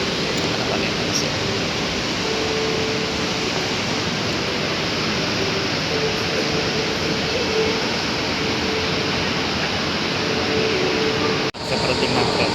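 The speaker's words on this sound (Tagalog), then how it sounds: "Sa parating ng tren." A steady, loud rushing rumble of a train rolls on continuously, broad and noisy like rushing air, ending with a brief sharp clunk.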